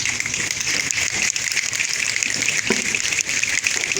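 A classroom of people imitate a rainstorm with their hands, a dense, steady hiss of rubbing and patting like heavy rain, evenly loud throughout with no talk.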